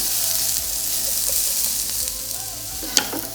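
Onions and red onion frying in a pan while being stirred, a steady close sizzle with occasional spoon scrapes and one sharp clink near the end.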